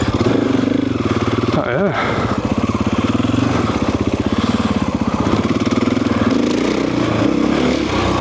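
A Husqvarna FE 501 four-stroke dirt bike on a test ride, its engine droning steadily and loud close by with brief throttle changes, while a rider speaks briefly over it.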